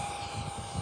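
An Arrows Viper 50mm electric ducted-fan RC jet passes overhead, a steady whooshing whine from its fan, moderately loud and continuous.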